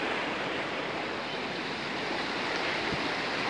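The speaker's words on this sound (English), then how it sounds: "Water's coming down beautiful." Water rushes steadily down a stream in a park, a dense, continuous broadband flow heard close and fairly loud, with no voices.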